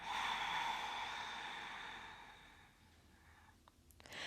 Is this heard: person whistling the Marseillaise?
no